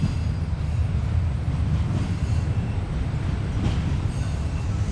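An eastbound Union Pacific train rolls over an old railroad swing bridge, giving a continuous low rumble of wheels and cars with faint squeals and clanks, steady and moderately distant throughout, with no voices.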